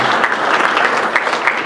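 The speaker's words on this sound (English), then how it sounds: "See, you can't say no when they're applauding." An audience at a memorial gathering applauds, a dense, lively clatter of many hands clapping close by, steady and unbroken for under two seconds.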